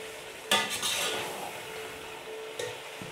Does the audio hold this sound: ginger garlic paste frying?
yes